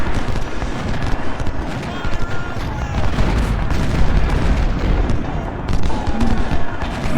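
Civil War artillery and musket fire rumble across a video game battle at Malvern Hill, a dense, continuous roar of booms and crackling shots with no clear gaps between them.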